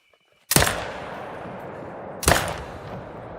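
Two sharp rifle reports from theHunter: Call of the Wild, fired at an animal, the first at about half a second and the second near two and a quarter seconds, each booming loud and trailing off into a long echoing decay.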